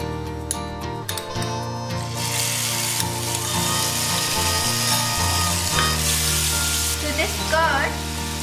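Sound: ginger garlic paste sizzling with cardamom, cinnamon and bay leaf

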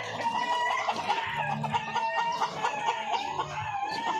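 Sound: pullets being raised as breeders

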